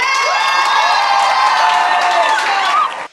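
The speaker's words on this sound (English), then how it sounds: "To applaud all the participants." A crowd cheers and whoops over scattered applause in a loud, steady three-second burst of many raised voices that cuts off abruptly at the end.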